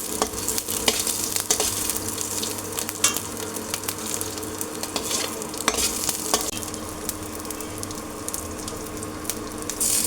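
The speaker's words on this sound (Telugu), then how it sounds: "ధనియాలు అన్నీ బ్రౌన్గా వచ్చే వరకు వేయించుకోవాలన్నమాట" Garlic cloves and coriander seeds fry in a pan for a pickle, giving a steady sizzle with scattered crackles and the scrape of stirring, close and continuous throughout.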